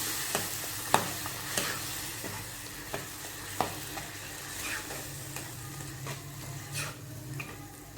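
Thick onion chutney bubbling in a pan, with soft pops and sputters at irregular intervals over a low steady sizzle.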